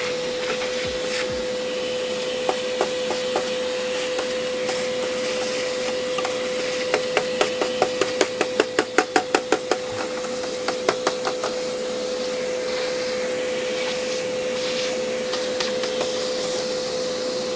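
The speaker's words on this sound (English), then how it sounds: "I think it's okay to do this inside since I have a vacuum" A vacuum cleaner runs continuously and loudly while sucking bug debris out of an old Pentium laptop's motherboard, with a steady whine and a flurry of rapid clicks and rattles as bits are pulled into the nozzle midway.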